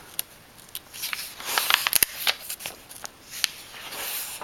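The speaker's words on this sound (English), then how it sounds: "you hear the pages crinkling and cracking because I don't think I've ever opened this book before" Pages of a new, never-opened medical book crinkling and cracking as it is opened, a scatter of sharp crisp snaps and rustles close by, with no talk.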